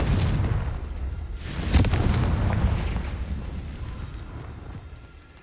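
A Confringo blasting spell explodes in Hogwarts Legacy, a deep booming blast with a sharp crack near the two-second mark, then a rumbling decay that fades over the following seconds.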